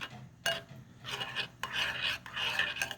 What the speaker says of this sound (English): Stir it around a bit.